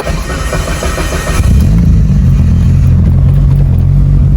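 A big-block Mitsubishi Evo 9 with a PTE 64mm turbo cranks and fires from cold, catching at about a second and a half and settling into a loud, steady, rumbling idle up close.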